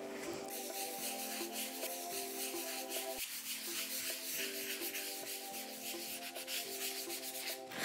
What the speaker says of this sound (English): When that is dry, I have to even it with sandpaper. I choose a fine grain sandpaper.